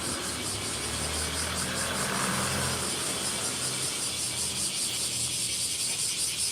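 A truck engine passing on a street in Beppu, a continuous low idling rumble with a broad noisy wash of traffic sound that swells slightly in the middle and then stays steady.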